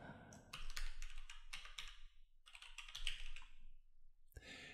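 Typing on a computer keyboard in quick, close bursts of key clicks, pausing briefly between runs, with no talking.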